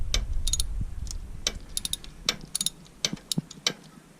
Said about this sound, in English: If I go too quick with this wrench